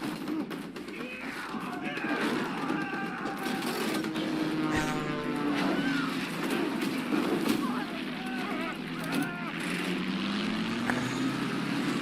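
Propeller airplane engine drone inside a Stranger Things fight scene, a steady loud hum running throughout and mixed with scuffling, shouts and voices from the action.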